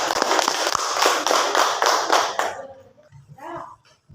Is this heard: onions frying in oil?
no